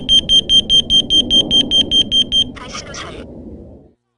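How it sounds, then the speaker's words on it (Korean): A carbon monoxide alarm at a campsite in Gwangju sounds a rapid series of about a dozen loud, shrill, evenly spaced beeps, then a brief burst of speech before fading out. "일산화탄소 경보기를 챙기고 경보기가 잘 작동하는지 확인하셔야겠습니다."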